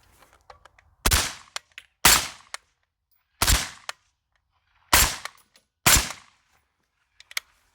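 Five suppressed shots from a Ruger Mini 14 rifle fitted with a suppressor crack out in an irregular sequence, each a loud sharp report with a short decaying tail, separated by quiet gaps and a few faint clicks.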